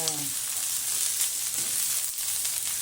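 String beans frying in a pan for adobo give off a steady, loud sizzle that runs throughout, with brief stirring scrapes mixed in and no speech.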